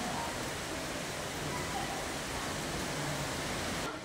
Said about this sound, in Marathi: लई जोरात पाऊस, जोरात